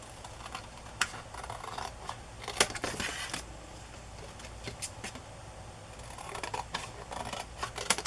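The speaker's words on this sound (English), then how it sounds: "I'm going to just cut this off and cut this off and" Scissors snip through journal paper in a quiet room, a series of short, sharp cuts and slicing swishes scattered irregularly, close and moderately loud, with a busier flurry of snips near the end.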